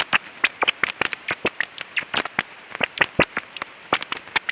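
A male rat chirping while being tickled by rapidly moving fingers: a dense, continuous run of quick, sharp chit-chit clicks, loud and close, without pause, with no talking.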